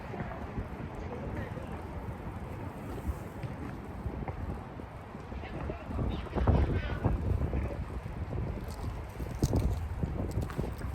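Gusty wind buffets the microphone outdoors, a loud, rumbling roar that swells and eases over the whole stretch, with a voice talking faintly underneath.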